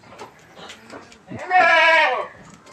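Kaligesing PE goat at a livestock sale gives one loud, close, drawn-out wavering bleat, with people talking just before it.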